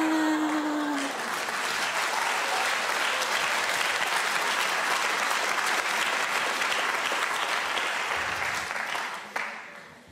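A comedy club crowd applauds a stand-up comedian, a loud, sustained roar of many hands clapping that holds steady for about nine seconds before cutting off abruptly.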